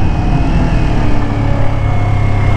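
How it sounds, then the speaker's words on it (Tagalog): Kawasaki Z400 motorcycle with stock muffler engine braking downhill, a steady loud droning engine note with wind rush, close and continuous. "Downhill, so puro engine braking tayo dito."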